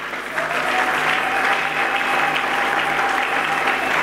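A church congregation at a Sunday worship service breaks into steady, sustained applause, a dense wash of clapping that carries on at an even level throughout.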